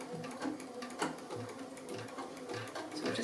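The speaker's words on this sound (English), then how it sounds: "while we pop it under the foot on the sewing machine. And we're just going to do a little bit of zigzaggy stitch just over it" A sewing machine runs a zigzag stitch over a coiled fabric strip for a small bowl. It makes a quiet, steady mechanical whir with a regular ticking needle rhythm, heard close and without talking.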